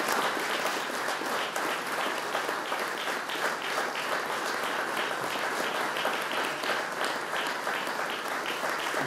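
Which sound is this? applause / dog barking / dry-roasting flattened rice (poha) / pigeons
applause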